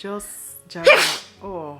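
A single sharp sneeze bursts out indoors at night in a home with a newborn baby, loud and close, with someone talking just before and after it.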